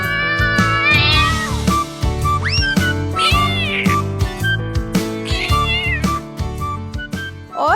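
Two cartoon cats, one black and one white, living in a dense forest, meow repeatedly in loud, close, rising and falling cries over a background music track.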